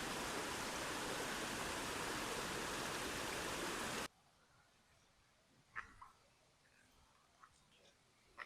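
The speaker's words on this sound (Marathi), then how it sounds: "बघा पाठीमागे वॉटरफॉल." Waterfall at a forest campsite, a loud broadband roar for about four seconds, then cutting to a much quieter scene with a few brief knocks and rustles.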